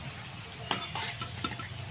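Potatoes fry in oil for a chicken dish, giving a brief, soft sizzle with a couple of quick stirring scrapes close by.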